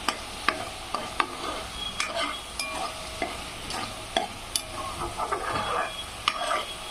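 Egg curry gravy stirred and frying in a pan, a soft bubbling sizzle punctuated by repeated sharp scrapes and taps of a spoon against the pan, close up with no speech.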